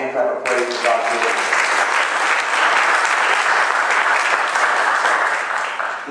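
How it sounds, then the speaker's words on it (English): A church congregation breaks into loud, sustained hand clapping in praise, a dense wash of applause that rises sharply after a brief spoken opening and holds steady for several seconds. "give the Lord a hand clap of praise for God's word"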